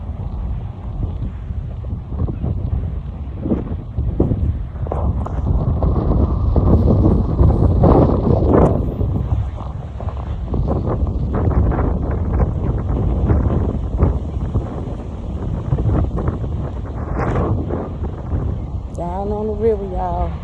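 Gusty wind buffets the microphone outdoors by the river in Memphis, a steady low rumble with surges, while a person talks intermittently nearby.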